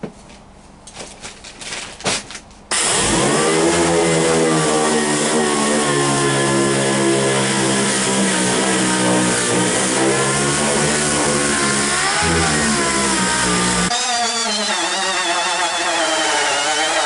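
Dual action sander with 80 grit sanding a Gen 4 Camaro hood, a loud steady whirring drone after a few seconds of handling noise, with its pitch shifting slightly as pressure changes.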